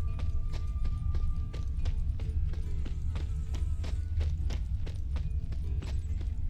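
Horse hooves clop in a steady, quick rhythm, loud and close, over a low rumbling background, in the video game The Witcher 3: Wild Hunt.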